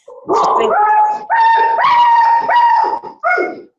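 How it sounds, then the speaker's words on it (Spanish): Several dogs bark and howl together in long, loud, wavering yowls broken by short yips, during an online math class. "¿Qué pasa ahí con los perros?"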